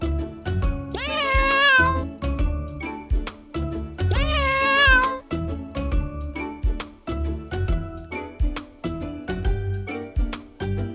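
A cat meows twice, clear rising-and-falling calls up close, set over a busy, bouncy children's music backing that plays throughout.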